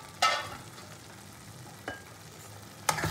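Potatoes and mutton liver frying in a pan give a soft sizzle, with three short scraping stirs of the spoon at the start, middle and end.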